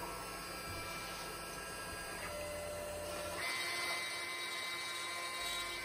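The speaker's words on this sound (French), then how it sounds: "il n'y a plus qu'à lancer la découpe de votre plaque." CNC router cutting an MFT plate under VCarve Desktop control, with a steady machining whine and hum that rises in pitch and intensity partway through, continuous and moderately close, no talking.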